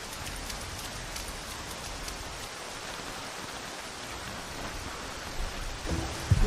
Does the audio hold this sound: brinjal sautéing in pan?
no